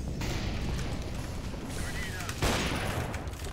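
Gunfire in a ranked online shooter match, a dense burst of shots with a louder crack near the end, heard under excited Portuguese gamer talk.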